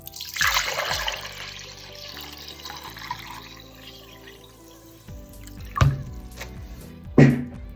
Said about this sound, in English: I pour my rice water